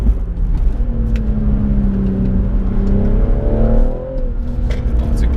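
A BMW M135i or M2 in Sport Plus mode pulls hard in fourth gear over a brow, its loud engine note climbing steadily in pitch before easing off, heard from inside the car.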